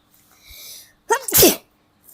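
A single loud, close sneeze from a sick person bursts out after a short inhale, sharp and sudden against a quiet background.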